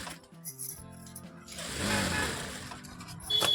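A sewing machine stitches tucks on a blouse close by. Its mechanical whir and clatter run in short bursts and swell louder midway. Light handling clicks come between the runs.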